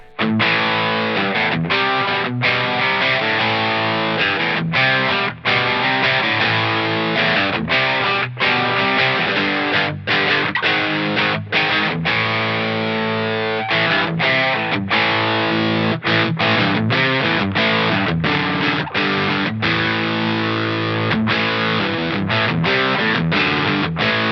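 A heavily distorted electric guitar with Spin-A-Split wiring plays steady chords and riffs for a long stretch, loud and close, with no voices.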